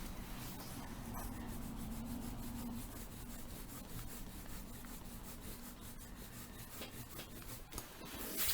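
Written math work is rubbed off paper, giving a soft, scratchy rubbing made of many quick repeated strokes. The sound is faint and continuous over several seconds.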